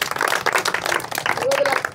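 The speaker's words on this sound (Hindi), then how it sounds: "ताली मारो सब" A group of schoolchildren clap together on a teacher's command, a quick, dense patter of many hands filling the room, with voices mixed underneath.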